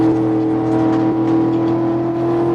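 Race cars in a racing video game hold a steady, droning engine whine at high speed, a continuous tonal hum with slight pitch wavering and no talk over it.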